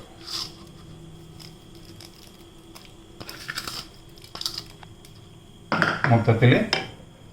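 Metal utensil scraping and clinking against a pot of shahi paneer gravy in short bursts, with a louder stretch of stirring near the end.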